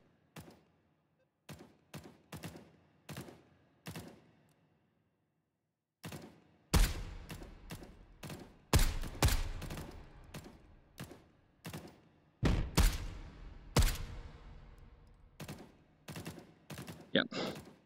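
Enemy bots fire on the player in the VR shooter H3VR: scattered gunshots, some distant and faint and others close and loud, arrive in irregular bursts over a quiet background.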